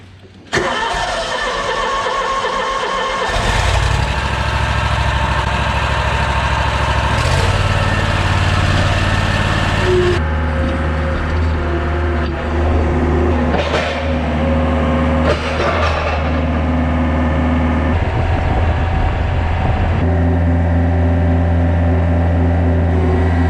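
A riding lawn mower that recently needed a battery charge cranks briefly and then catches. Its engine revs up loudly and settles into a steady, close idle that runs with a few surges in pitch.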